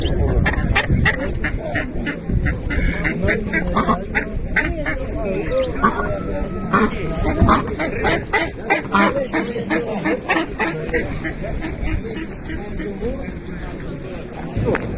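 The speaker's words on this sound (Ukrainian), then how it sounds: "Що це у вас за качечки?" Cayuga ducks quack busily and continuously at a livestock fair in Ternopil, close by, while people talk over the flock.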